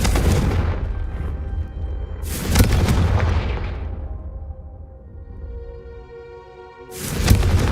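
Confringo fire-spell blasts in a Harry Potter video game: three loud booming explosions, each followed by a crackling, fading burning tail, with one long ringing decay before the final blast.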